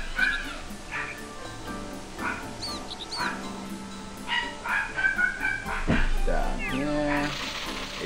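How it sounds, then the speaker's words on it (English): Dogs bark, yip and whimper in short bursts throughout, fairly close, mixed with video game sound effects and a person talking. "Ignore the dogs, they don't exist."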